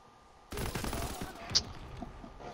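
Shooter game gunfire starts abruptly and continues as a rattling burst of rapid shots. A sharp, bright ping cuts through partway in, and the firing then trails off into quieter game noise.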